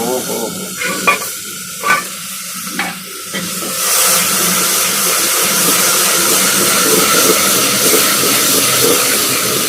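Onions frying in hot oil for a village-style Sindhi dawat biryani, a loud steady sizzle that swells after a few stirring scrapes and then holds as a dense, continuous hiss, close up.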